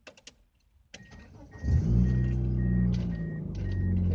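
A rebuilt 1998 Mitsubishi Eclipse starts up after a few clicks and settles into a steady close engine drone, with a faint repeating chime beeping over it.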